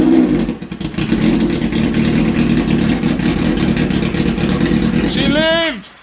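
A Suzuki GSXR 1000 K5 motorcycle engine runs loud and steady up close, then revs up sharply several times near the end, with voices heard over it.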